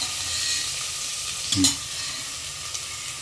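Onions sautéing with a little salt in a pan for paneer biryani, a steady broadband sizzle throughout with a brief louder stir or scrape near the middle, no talking.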